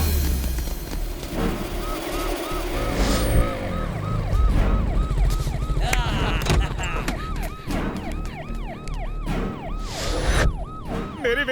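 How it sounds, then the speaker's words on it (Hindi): Ambulance siren wailing in a jammed street where a cricket game blocks traffic, rising and falling repeatedly over constant background noise and shouting voices. "प्लीज एम्बुलेंस को जाने दो"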